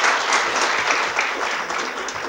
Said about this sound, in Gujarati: આપણે એકવાર તાળીઓથી વધાવી લઈએ